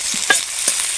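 Chopped onion fries in a hot wok, a soft sizzle under two distinct scraping stirs of a spatula, close and fairly loud, with no voices.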